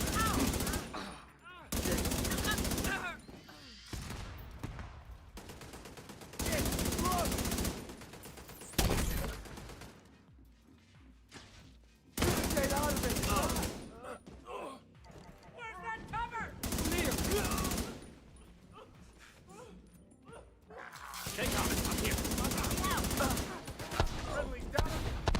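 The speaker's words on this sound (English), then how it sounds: "Setting up my turret." Automatic turret in a PVE video game fires in long rapid bursts, loud mechanical rattles separated by brief quieter pauses with faint background game sounds.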